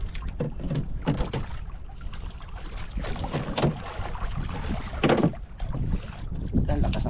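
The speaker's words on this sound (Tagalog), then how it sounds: "Grabe kalakas sa agos" Strong river current rushing and churning toward the depths, a loud continuous wash of turbulent water with wind buffeting the microphone throughout, with no voices in it.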